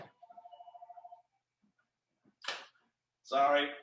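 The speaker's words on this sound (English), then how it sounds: "sorry about the phone in the background" A faint electronic phone ring, a quick warbling trill lasting about a second, then quiet before a voice speaks briefly.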